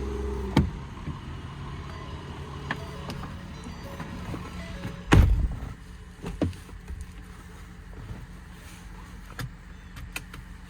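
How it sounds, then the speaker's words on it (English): A 2019 Ford F-550 mechanics crane truck with extended cab and Autocrane body being driven, giving a steady low engine and road rumble with a few sharp clunks and thumps, no one talking. "I'm gonna jump in the truck and take it for a spin now"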